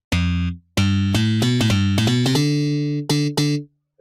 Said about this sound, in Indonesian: Slap ini suaranya seperti ini.